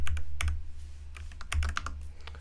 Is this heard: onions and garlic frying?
no